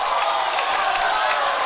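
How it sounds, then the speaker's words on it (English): At a girls' basketball regional quarterfinal in a gym, a crowd roars and jeers in disapproval at a referee's call, a dense, continuous wash of voices filling the space. "The Custer crowd not happy with that call"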